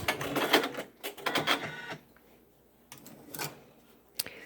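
A Janome embroidery machine (MB4, MB4S or MB7 type) trims its thread with quick mechanical whirring and clicking bursts, followed by a pause and a couple of short clicks up close.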